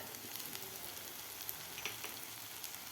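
Dry spices, onion-garlic masala and Kashmiri red chili powder, fry in a pot for a potato curry, giving a soft, continuous sizzle with a few light stirring scrapes, quiet and close.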